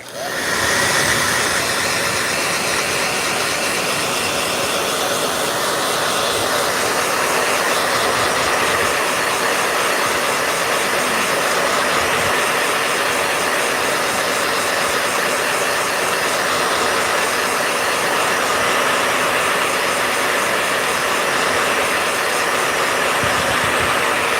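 A steady, loud broadband whoosh of a blow dryer runs continuously from start to finish, with no pauses or talking.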